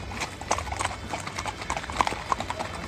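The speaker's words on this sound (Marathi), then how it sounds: "हे घोडे आहेत ॲक्च्युली." Ponies used for tourist rides in Pahalgam, Kashmir, clip-clopping with quick irregular hoof beats at moderate distance, fairly faint, with a faint voice in the background.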